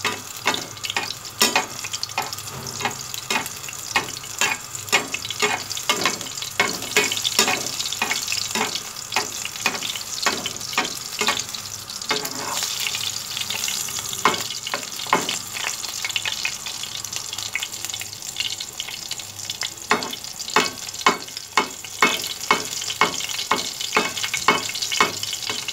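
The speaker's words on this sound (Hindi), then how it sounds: "इसलिए हमने इसको बस दरमियानी आंच पे फ्राई करना है और इस तरह हमने ऑयल ऊपर इस तरह डालते रहना है" Peshawari chapli kababs fry in oil over medium heat, giving a constant bubbling sizzle broken by repeated sharp spatters and clicks as oil is spooned over them, close and continuous for the whole stretch.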